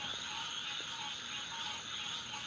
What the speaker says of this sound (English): I wonder how many thousands of frogs we're listening to right now.